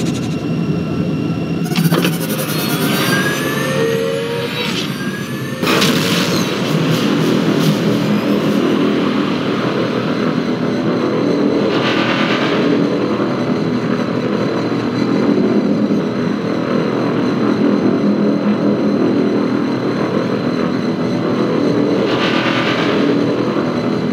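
Spaceship engine in the space combat game Rebel Galaxy accelerating to sublight speed: a loud, sustained roaring rumble with rising whooshing tones, steady throughout and with no talk.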